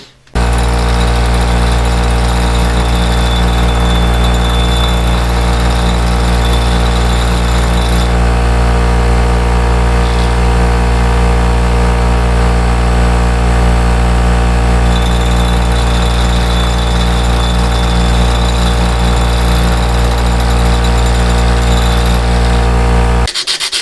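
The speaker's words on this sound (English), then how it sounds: "So I'm going to try to grind that flat, see how it comes out." A power grinder grinds the flattened pole of a vintage Plumb axe head, a loud, steady, unbroken grinding roar that holds for over twenty seconds with no speech.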